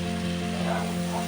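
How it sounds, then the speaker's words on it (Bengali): Fish pieces fry in spice paste for a fish curry, a steady, close sizzle with a faint low hum beneath and no talk. "আর মাছগুলো এবার উপর থেকে দিয়ে মশলার সাথেই আমি একটু কষিয়ে নেব।"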